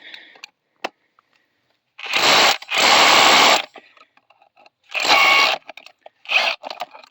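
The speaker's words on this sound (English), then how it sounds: "drill one just so you can see it." Power drill boring a hole into a concrete stem wall for rebar, in loud bursts of grinding whine separated by pauses, with a few faint taps and clicks between the runs.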